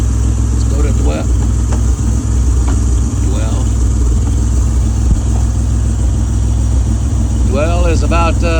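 A car engine idles at about 800 RPM in an engine bay tune-up on an odd-fire engine, with a loud, steady, even hum held throughout and someone talking over it in short bursts.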